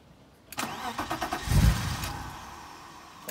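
A turbocharged BMW E36 engine cranks in a rapid rhythmic chug, then catches with a loud low burst of power before settling into a fading rumble, recorded close up with no talking.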